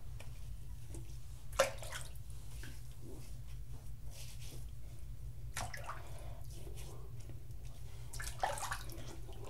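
Water splashes faintly and intermittently at a sink while someone rinses off after a wet shave, with soft drips and a few brief louder splashes.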